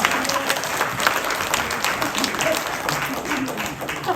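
Audience at a political talk breaking into applause, a steady, dense clapping crowd sound filling the whole span at close range.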